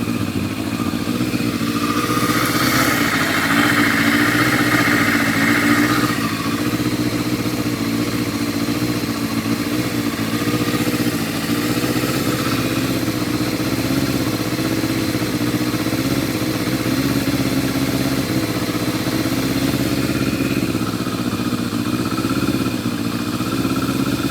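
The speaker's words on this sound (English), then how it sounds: "Give the engine a little rev, then it settles down." A motorcycle engine idles steadily with a brief rev early on, then settles back into an even, rumbling idle for the rest of the clip, close by.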